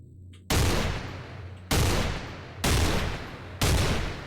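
Four loud, separate gunshot blasts of 8x40 ammo in Cataclysm DDA, spaced about a second apart, each with a sharp attack and a trailing decay.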